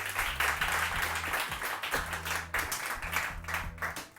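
Studio audience applause on a morning television show, dense sustained clapping with a steady rhythmic thump underneath, continuing through the whole stretch.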